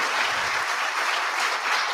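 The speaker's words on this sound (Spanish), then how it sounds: "les pido un muy fuerte aplauso para Juan José Sebrelli." An audience at a lecture in Argentina on populism claps loudly and steadily for an invited author, a dense, close roar of many hands that holds at full strength with no voices on top.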